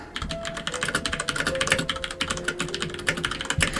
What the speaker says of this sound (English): By the way, can you hear the keyboard?